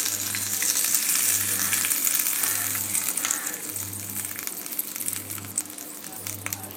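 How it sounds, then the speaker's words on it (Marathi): Mustard-seed tempering for chutney spits and crackles in hot oil, a dense, close sizzle with scattered pops over a faint pulsing hum, with no one talking. "चांगली ही फोडणी तडतडू द्यायची आपल्याला"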